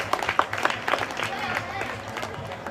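Audience at an outdoor Ramlila performance claps in uneven bursts, with several sharp individual claps early on, while voices talk over it and a low hum runs beneath.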